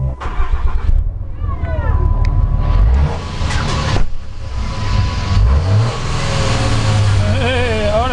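A Ram truck with an open competition exhaust, heard from inside the cab, revs hard and loud in several rising and falling bursts, with a deep rumble throughout and voices talking over it.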